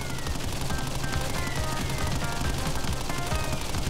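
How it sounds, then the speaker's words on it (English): Machine gun fire in the Crash Bandicoot video game: a dense, continuous rattle of shots at steady volume, with no talking over it. "You guys got a machine gun."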